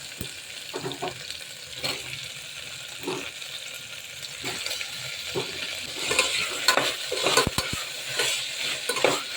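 Tomatoes frying and sizzling in a pan over sautéed ginger garlic paste, with a steady crackle and occasional stirring scrapes and clinks, fairly close and moderately loud, no talking.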